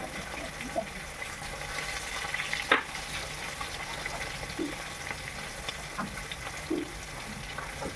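Fish masala with Kashmiri chili powder stirred in a pan for bacha fish paturi: a low, steady sizzle with faint stirring scrapes and one sharp utensil clink.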